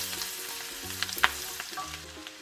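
Ginger and garlic sauté in a pan with a soft steady sizzle and a few light clinks of stirring. The sound is faint and close, with no talking and a tonal hum underneath.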